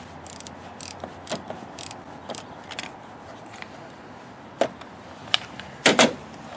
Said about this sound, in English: Now we'll pry this one.